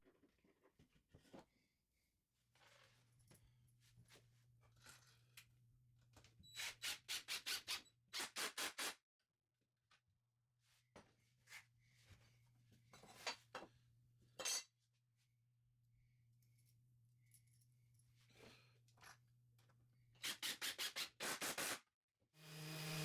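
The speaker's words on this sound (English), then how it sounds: "I like sanding this kind of bench assembled." Hand sanding on an assembled wooden bench comes in bursts of close, scratchy back-and-forth strokes, rhythmic in short runs, with quiet gaps and a low steady hum between them.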